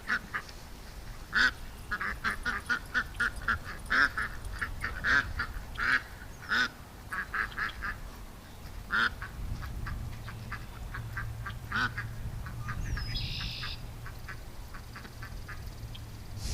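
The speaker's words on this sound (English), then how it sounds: "They're upset ducks." Fighting ducks quack in an agitated, rapid series of sharp calls at moderate distance, with a few fuller honks near the end over low background noise.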